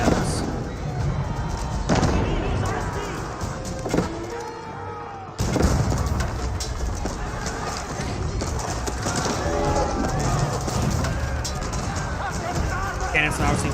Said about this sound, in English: Cannons now seems to fire there.